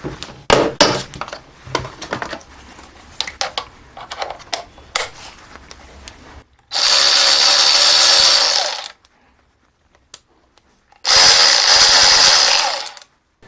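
A Stanley SCW930 3/8-inch cordless electric ratchet wrench, used with a Stanley Fat Max battery, runs in two loud whirring bursts of about two seconds each, separated by silence and preceded by clunks and taps of handling.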